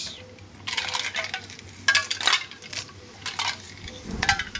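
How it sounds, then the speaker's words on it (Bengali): Ice cubes drop into a glass of dahi lassi, making several sharp, bright clinks spaced irregularly over a few seconds against a quiet kitchen background. "দিয়ে দিলাম আইস কিউব"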